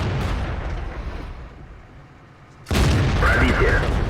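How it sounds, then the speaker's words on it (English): Tank cannon firing in World of Tanks on the T-150: a heavy boom lands partway through, loud and abrupt, following a quieter stretch of battle rumble, with the blast's thick noise filling the rest of the moment. "It's really just a quick moment of really showing what the rate of fire on this tank is."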